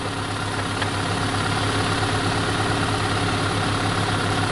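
Vehicle engine idling steadily while its alternator charges the battery, a continuous low rumble with a faint rhythmic pulse, close and moderately loud with no talk over it.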